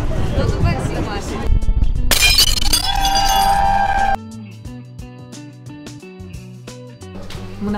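A plate smashes on a film set in an apartment, one loud crash with ringing shards about two seconds in. Chatter and clinking surround it, and quieter tapping follows.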